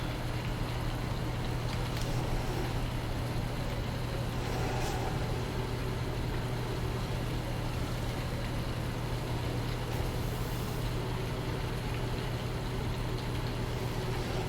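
Steady, low vehicle engine idle in Farming Simulator 19 on the Ungetsheim map, a constant droning hum that runs unbroken through the whole stretch with no talk over it.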